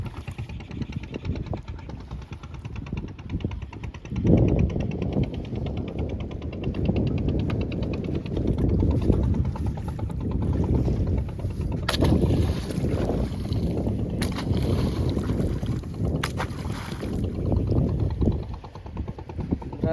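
A fishing boat engine drones steadily on a river during hilsa fishing, a continuous low rumble mixed with wind buffeting the microphone and occasional splashy bursts.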